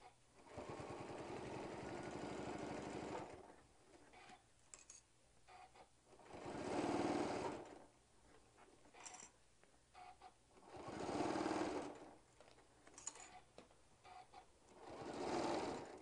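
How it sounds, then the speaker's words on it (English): A sewing machine runs in three or four separate bursts, stitching a foam-structured bag closed about 1/8 inch from the edge. The whirring bursts are loud and close, with short pauses between them. "now we're just going to sew this closed at 1/8 of an inch"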